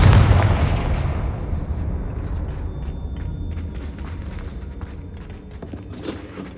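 A Confringo spell in the game Hogwarts Legacy goes off as a deep, booming blast at the start, rumbling and decaying over several seconds into a low roar with faint crackling debris.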